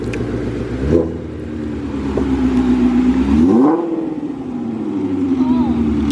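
A newly bought car's engine starts with a thump, then idles and is blipped into a rising rev before settling back to a steady idle, loud and close, with people talking over it.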